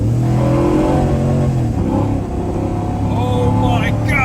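An LS3 V8 swapped into a vehicle revs hard on a wet day, rising and falling in loud sweeps close by, while people talk and exclaim over the engine.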